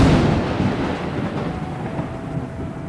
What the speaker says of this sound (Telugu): మెరుపులు పడుతున్నాయి.